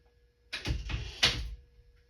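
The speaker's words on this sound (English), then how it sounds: "I'm going to shut the door." A door is pushed shut indoors with a soft double thump and brief rattle, quiet and close, with no one talking over it.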